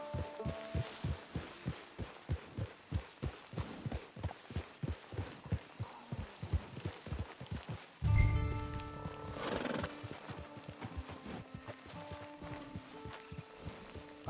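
Hoofbeats of a horse being ridden in Red Dead Redemption, a steady rhythmic clip-clop at close range for the first half, then a loud snort and whinny over music-like game ambience, with no talk.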